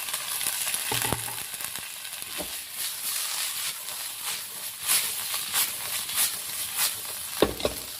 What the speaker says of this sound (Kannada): ಈಗ ನೋಡಿ ಜೋಳ ಫ್ರೈ ಆಗ್ತಾ ಬಂತು